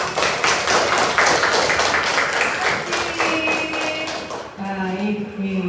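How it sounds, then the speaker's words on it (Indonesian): A classroom of students claps for a group of classmates, dense rapid clapping filling the room before fading as a voice begins speaking. "beri tepuk tangan untuk kelompok kinestetik"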